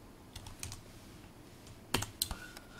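Keys on a computer keyboard tapped in a few short, sharp clusters, close and fairly quiet against a low room hum, with no speech.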